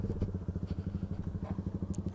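A Yamaha Fazer motorcycle engine revs steadily in a fast, even pulsing rhythm, loud and close, with a faint clatter near the end and no voices.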